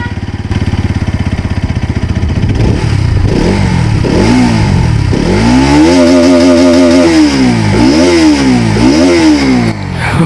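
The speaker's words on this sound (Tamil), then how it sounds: "இந்த வண்டியோட எக்ஸாஸ்ட் நோட் எப்படி இருக்குன்னு நம்ம இப்போ கேட்கலாம்" A 2025 Bajaj Pulsar NS200 200cc motorcycle revs hard from idle in a run of loud, close throttle blips, each rising and falling, with no talking over it.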